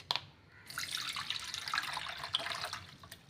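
Water drains from soaked Mappillai Samba rice, pouring and trickling steadily into a bowl, a continuous splashing flow with a few brief drips near the start.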